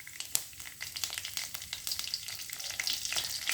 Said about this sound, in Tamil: இப்போ வந்து எண்ணெய் வந்து கொதிச்சிட்டுது. நாங்கள் வந்து வெந்தயம், பெருஞ்சீரகத்தை போடுவோம்.